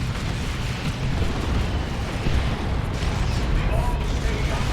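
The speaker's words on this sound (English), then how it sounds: "Assault cannon time it is for the Dreadnought. Powerful ranged anti-infantry weapon with a superb barrage ability." A Space Marine Dreadnought's assault cannon barrage in Dawn of War 2, a sustained, dense roar of rapid fire and explosions that stays loud and even throughout with no gaps.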